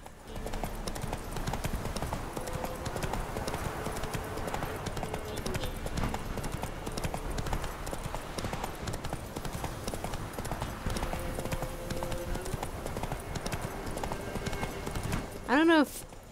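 Horse hooves clop steadily in The Witcher 3 video game, a quiet continuous rhythmic patter under game ambience, with a brief louder whinny-like cry near the end.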